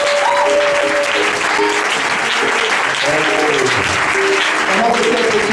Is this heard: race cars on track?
no